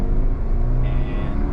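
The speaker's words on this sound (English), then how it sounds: "The first thing I want to quickly do is acceleration." A 2023 Subaru Crosstrek Sport with 182 horsepower accelerates through city streets, heard from inside as a steady loud engine drone with low rumble and rising tone.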